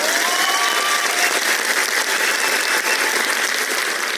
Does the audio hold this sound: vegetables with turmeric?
no